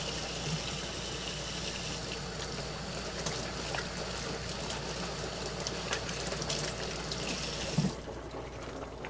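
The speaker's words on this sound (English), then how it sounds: "rinse off this lemon real quick" Tap water runs steadily in a kitchen while a lemon is rinsed beneath it, a constant soft hiss and trickle with a faint clatter near the end.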